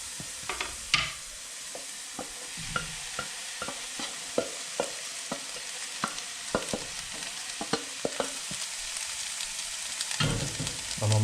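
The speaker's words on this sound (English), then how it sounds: "So we can now add that to the frying pan." Mushroom rice is stirred in a frying pan over low heat, spoon scrapes and taps landing irregularly over a soft, steady sizzle, close and fairly quiet, without any voices.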